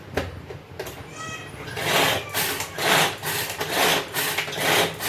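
A kitchen chopper minces ginger, garlic and coriander, giving rough, rasping, rhythmic grinding bursts close by that swell and fade over a few seconds, with no speech heard.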